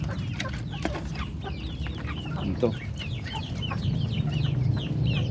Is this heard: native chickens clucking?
yes